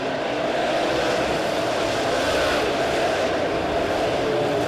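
A-Modified race cars roaring around Springfield Raceway during a Turkey Bowl A-Main, a continuous loud engine drone with a constant crowd and track wash and no break throughout.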